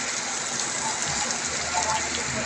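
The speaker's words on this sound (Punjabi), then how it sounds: "ਕਾਫੀ ਮੀਂਹ ਪੈ ਰਿਹਾ ਹੁਣ ਫਿਰ ਇੱਕਦਮ ਹੀ ਆ ਗਿਆ ਮੀਂਹ" Heavy rain pours down in Jogewala, Punjab, in a loud, unbroken hiss, close and constant throughout, with no voices.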